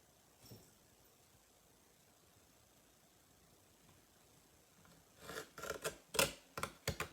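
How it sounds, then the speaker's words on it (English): A small mini paper trimmer slices along the edge of a card, a run of quick sharp crisp cuts clustered at the end after near silence, faint and close. "I'm going to go ahead and use my little mini trimmer, and I'm just going to trim off this edge right here"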